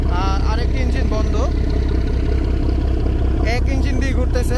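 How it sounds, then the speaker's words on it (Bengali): Diesel engine of the new passenger launch MV M Khan-7 idling slowly at about 530 RPM, a steady loud low throb under a voice talking. "ইঞ্জিনের গতি কিছুটা স্লো করা হয়েছে, এখন 530 আরপিএম এ চলতেছে"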